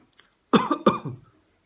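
Two quick, harsh coughs, close and loud, one right after the other, in an otherwise quiet moment.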